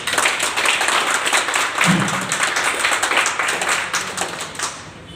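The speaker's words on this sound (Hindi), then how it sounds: "इन सब के लिए जोरदार ताली बजाइए।" An audience at a plan meeting in Vatva gives a burst of dense, steady applause. Many hands clap close together for the whole stretch and fade a little at the end.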